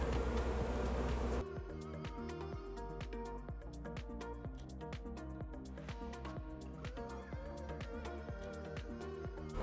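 A package of honey bees hums with a soft, steady buzzing drone, faint and continuous, with light tapping clicks throughout.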